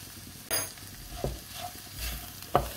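A spoon stirs pepper, turmeric and salt into rice in a pan for a seafood paella-style dish, giving a few soft scraping strokes over a faint background sizzle, close and quiet, with no voices.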